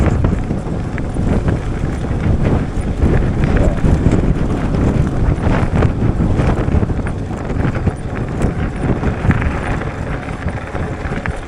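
Strong gusty wind buffeting the microphone while riding a Wooken e-bike along a tree-lined road in bad weather, a loud continuous roar and rumble throughout with no clear voices.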